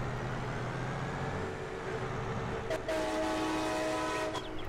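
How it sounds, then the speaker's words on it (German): A train horn fitted to a truck in Farming Simulator 22 blares a sustained tonal blast over steady engine and road rumble in the second half. "Eine Eisenbahnhupe geklaut und angebaut"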